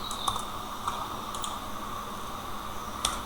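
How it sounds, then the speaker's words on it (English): Sparse keystrokes on a computer keyboard, a few light clicks spread over a few seconds above a steady fan-like hum, close and with no voices. "Let's type this one as well"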